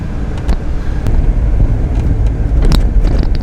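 An old pickup truck nearing 100,000 miles, its engine running loud and close as a steady low rumble with wind buffeting the microphone and a few brief knocks.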